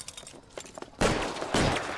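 Gunfire in L.A. Noire as a fleeing suspect shoots: two loud, close bursts of shots, the first at the midpoint and a second half a second later, following quieter rattling game sounds.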